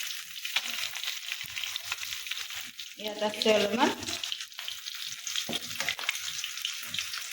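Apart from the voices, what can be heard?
fish frying in a pan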